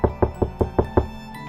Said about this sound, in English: Then I heard a knock at the door.